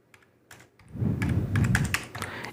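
Computer keyboard typing while entering dates in an Excel spreadsheet, a few scattered key taps followed by a denser run of quick clicks and a press of Enter, close and clear, no talking.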